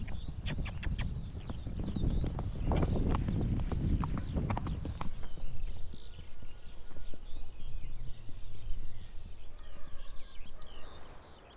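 Horse hooves clip-clop in a steady rhythm, fairly close and continuous, joined by bird chirps and farmyard ambience, with no talk.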